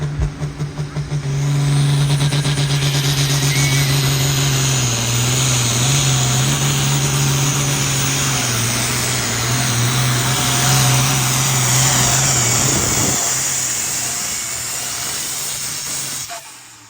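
A high-horsepower hot farm class tractor roars during a tractor pull, a loud sustained engine drone with a shifting pitch, hiss and rattle that holds steady for about twelve seconds, then cuts back and fades.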